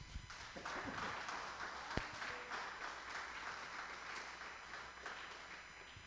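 A church congregation applauds in a faint, steady wash of many hands clapping, continuous and diffuse throughout with one sharp louder clap near the start.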